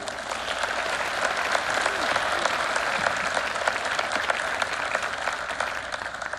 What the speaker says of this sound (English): So I want to give all those folks a round of applause too.